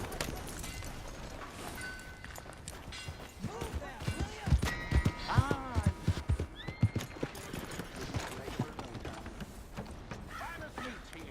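Horse in Red Dead Redemption 2, its hooves clip-clopping in an uneven run that grows louder midway, with several whinnies and snorts and occasional voices.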